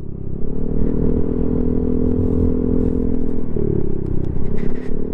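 Motorcycles riding along a winding road on a long ride from Lopez, Quezon toward Kaybiang Tunnel and Tagaytay, a steady loud engine drone with rattling and scraping, and a shift in pitch partway through.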